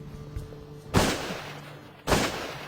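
Two shotgun blasts ring out during a bird hunt, about a second apart, each a sharp crack trailing into a short echo over quiet outdoor background.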